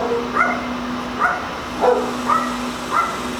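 Dogs bark repeatedly nearby, five evenly spaced yelping barks over a low steady hum, with no talking.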